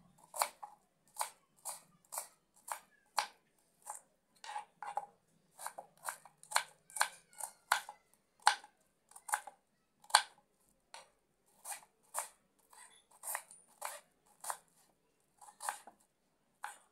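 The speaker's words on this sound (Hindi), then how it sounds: "कांधा काट लेंगे बारीक बारीक, मशीन से नहीं निकालना है, इसको ऐसे काटना है चाकू से" Onion chopped finely with a knife for an aloo paratha filling: crisp, close taps of the blade hitting the board, about thirty strokes in quick, uneven runs separated by short pauses, in an otherwise quiet room.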